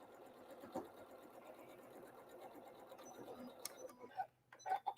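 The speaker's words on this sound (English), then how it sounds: "I'm just gonna sew this." A sewing machine stitching a quilt block seam, its steady mechanical whir running close and continuous, with a brief pause and a few clicks near the end.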